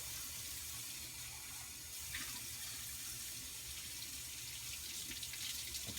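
Cold tap water runs in a steady, continuous stream, filling a container for mixing casting stone, a constant close-up rush with no speech.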